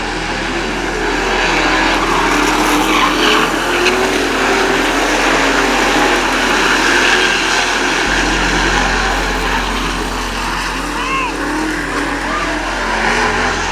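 Race cars circle a track during a heat, their engines a continuous loud drone that shifts in pitch as they pass, with a commentator's voice over the top.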